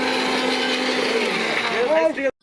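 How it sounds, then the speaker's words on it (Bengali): A kitchen blender grinds tomatoes into paste for a catered picnic meal, a loud, steady whirring drone that holds for about two seconds before winding down and cutting out abruptly. "এর টমেটো পেস্ট করছে"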